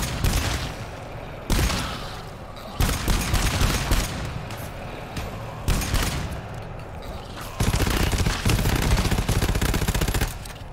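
Sentry gun in the co-op shooter GTFO letting loose repeated loud bursts of automatic fire, the volleys coming in uneven clusters that nearly run together across the clip.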